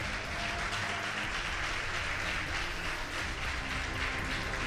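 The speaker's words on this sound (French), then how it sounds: "sous l'applaudissement du public." Studio audience applauding on a Haitian TV quiz show as school teams come onstage, a loud continuous roar of clapping with a busy background hum, steady from start to finish.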